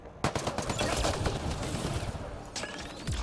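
Rapid automatic gunfire from the Mass Effect: Andromeda video game rattles loud and continuous in dense bursts, with a brief gap and a fresh burst near the end.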